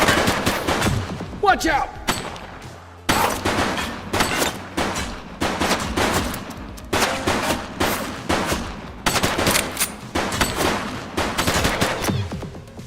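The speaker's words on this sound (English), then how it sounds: "He's shooting!" Gunfire in the video game The Precinct comes as loud, repeated automatic bursts in quick succession throughout, with a voice shouting briefly near the start.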